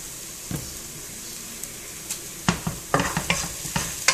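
Garlic and onion frying in oil for chicken entomatado, with a steady sizzle broken by irregular scraping stir strokes that grow louder and more frequent toward the end. Close and moderately loud, with no talking.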